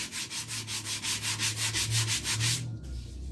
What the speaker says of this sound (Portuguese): Mas para você lixar o gesso, ele tem que estar bem seco, senão você não consegue lixar.